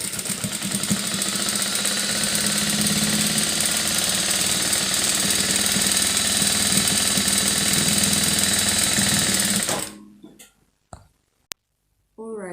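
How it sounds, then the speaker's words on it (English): A sewing machine stitching a turtleneck top runs in a steady, loud, close mechanical whir for about ten seconds, then stops, followed by a few brief clicks as someone talks. "I'll sew it straight like this."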